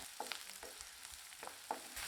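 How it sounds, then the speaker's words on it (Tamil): Chopped onions sauté in oil over a medium flame in a pan while making Andhra chicken fry, giving a soft continuous sizzle with a few faint stirring scrapes. "இதை சேர்த்து லேசாக செவந்து வர அளவுக்கு நல்லா வதக்கி விட்டுக்கணும்."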